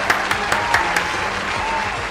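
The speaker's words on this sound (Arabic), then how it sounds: "تصفيقة." Applause on an Arabic game show: a short burst of steady clapping from a studio audience, moderately loud and even throughout, with a few sharper claps standing out near the start.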